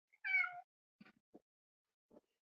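A cat lets out one clear, close meow in a quiet room, followed by a few soft, faint thumps and rustles.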